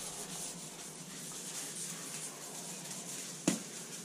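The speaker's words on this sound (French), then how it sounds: "Et je ponce un petit coup à l'eau" Painted bodywork on a Renault Mégane cabriolet boot lid is wet-sanded lightly by hand, a soft even rubbing hiss close by with a single sharp tap near the end.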